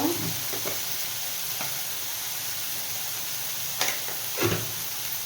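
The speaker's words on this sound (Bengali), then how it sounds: "মশলাটা বেশ ভালোভাবে কষিয়ে নিয়েছি" Spice masala frying in mutton fat for a chickpea ghugni: a steady, close sizzle with a bright hiss, broken by a few soft stirring scrapes and clicks from the pan.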